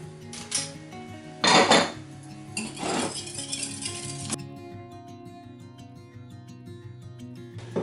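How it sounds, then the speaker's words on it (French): Eggs are beaten with powdered sugar in a bowl, giving close clinking, scraping strokes in bursts, with the utensil tapping the bowl in between. "je mélange mes œufs avec mon sucre en poudre."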